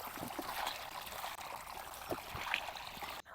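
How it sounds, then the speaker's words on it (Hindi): Elephant foot yam being washed by hand with water outdoors beside a garden bed, giving a soft, continuous trickling and splashing with occasional small sloshes, fairly quiet and steady with no talk. "इधर मैं ओल को धो रही हूँ"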